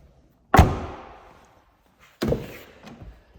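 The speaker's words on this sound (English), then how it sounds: "ashtray working properly," The ashtray in a 2003 BMW M5 interior is opened and then shut: two sharp, close plastic clunks about a second and a half apart, each with a short fading rattle, with no talking.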